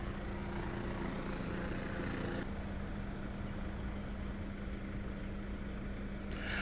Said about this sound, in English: There's helicopters outside.